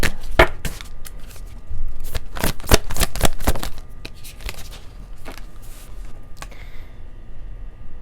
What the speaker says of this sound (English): these cards are new, so they're kind of harder to shuffle the way I like to